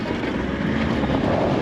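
Ferry engine droning steadily under strong wind noise at Inskip Point, a constant broadband rumble with no talk.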